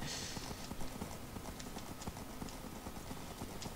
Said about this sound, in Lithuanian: Bėk arkliuk, nepadusk.